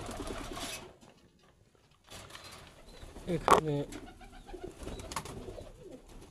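Diamond doves coo softly in short repeated calls close by in a breeding enclosure, with a person speaking briefly over them.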